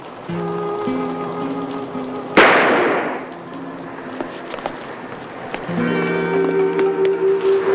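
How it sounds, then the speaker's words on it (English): A gunshot in a film scene rings out as one loud, sharp crack with a decaying tail, set against background music and scattered footstep-like knocks. "What the hell is this shooting for?"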